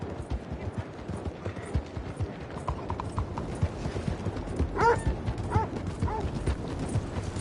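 Horse hooves clip-clopping at a quick gait in the Red Dead Redemption 2 video game, a steady rhythmic beat close by with a brief whinny-like call partway through, over a dense ambient bed.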